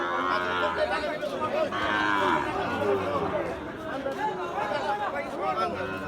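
Young Sahiwal and Gir bull calves at a bustling village cattle market low repeatedly amid a steady hubbub of crowd chatter and nearby voices.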